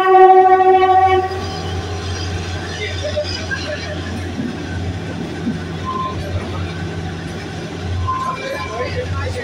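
The Kalka–Shimla toy train sounds a loud horn at the start, then its carriages rumble and clatter steadily along the track at close range.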